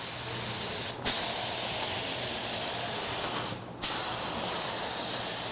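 Aerosol can of Duplicolor Paint Shop translucent candy coat paint sprays in a steady close hiss, cut by two brief pauses.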